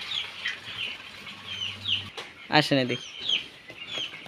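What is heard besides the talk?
chickens clucking and flapping while being caught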